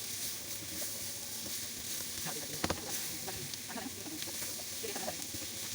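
Mutton masala with bhindi sautéing in a pan over full heat, a steady close sizzle and hiss with scattered scraping stirs, one sharp clatter midway, continuous throughout with no clear talk.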